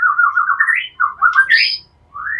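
A white-rumped shama sings loud, clear whistled phrases close by, rising and sliding notes in short bursts separated by brief pauses.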